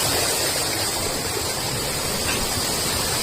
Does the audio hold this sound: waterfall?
yes